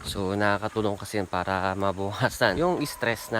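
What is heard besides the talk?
No everyday noise stands out behind the speech.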